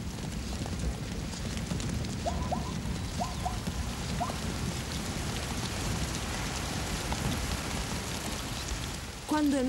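First rains of the season falling on the savanna along the Linyanti River in Botswana, a steady, even hiss of rainfall throughout with a few faint bird calls.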